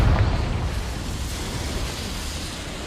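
Confringo spell explosion in Hogwarts Legacy: a loud, low booming burst at the start that fades into a broad rumbling roar lasting a few seconds.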